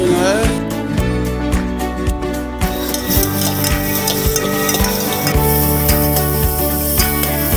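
Onions fry and sizzle steadily in hot cooking oil in a pan, with occasional stirring over a backdrop of music.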